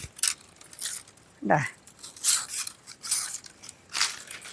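Coconut palm leaf ribs being stripped by hand for a broom, with several dry scraping, rasping strokes close by, separated by brief pauses, and someone speaking briefly partway through.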